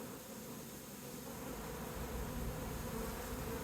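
Small Barbados honeybees buzz at an open hive during a frame inspection, a steady, dense drone that stays close and even throughout with no voices.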